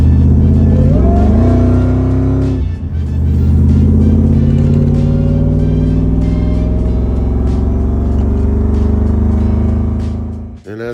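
A tuned Ford SVT Lightning truck's engine drones loudly and steadily while driving, its pitch climbing under acceleration with a brief dip and renewed rev, close and continuous throughout.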